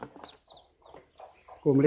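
A hen among her chicks in a Konkan village clucks in short bursts, with faint chirps in the background, ending in a louder, fuller clucking call close to the listener, while people talk nearby.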